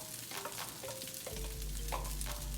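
Corn and peas stirred into a hot pan for fried rice sizzle steadily, with a few light scraping strokes of the spatula over a constant frying hiss.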